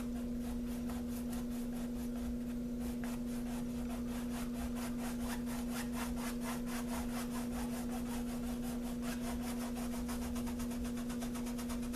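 A brush scrubs acrylic paint onto canvas in fast, regular back-and-forth strokes, a close, rhythmic scratching over a constant electrical hum, with no talking.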